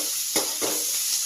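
Eggplant sisig with spring onion is stirred in a hot pan: a constant hiss runs under two short scraping strokes of a utensil, heard close and with no talking.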